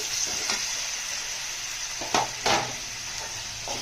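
Chopped tomato goes into onions frying in a pan for a green gram curry, giving a steady close sizzle with a few sharp stirring scrapes and clinks near the end.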